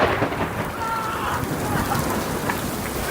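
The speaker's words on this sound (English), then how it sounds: "Lightning strikes near a sports field during a severe storm." Severe thunderstorm near a sports field, with loud dense rain hissing and a deep thunder rumble after a lightning strike, continuous and close.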